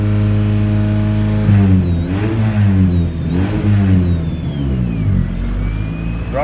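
A Honda CRX rally car engine revs during throttle calibration, idling steadily before several quick, rising and falling throttle blips, loud and close, with no one speaking.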